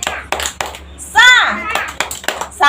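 Children clap out a rhythmic hand-clap chant in a small learning-house class, sharp, close claps in short bursts mixed with their voices chanting along.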